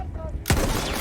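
A single sharp gunshot in the Battlefield 1 war game cracks out loud and close midway, followed by ringing battle noise.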